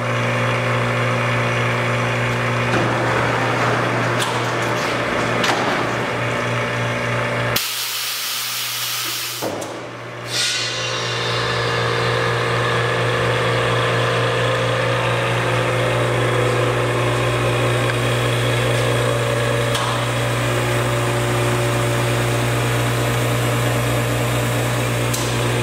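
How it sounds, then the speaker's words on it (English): A Belovac BV C Class 48 x 48 vacuum former runs with a loud steady hiss and machine hum. A brief sharp whoosh and drop come as the vacuum opens, then the steady drone resumes. "push back the oven, raise the tooling table, and open the vacuum"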